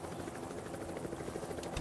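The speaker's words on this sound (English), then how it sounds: "Still hear a helicopter." A helicopter in the video game Project Zomboid drones faintly in the distance, its rotor thrum steady and muffled throughout.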